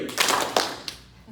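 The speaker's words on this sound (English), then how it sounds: "please clap your hands" Presentation audience at an Enagic event in Los Angeles clapping on cue, a few scattered hand claps rising and fading over roughly a second, fairly close and moderate in loudness.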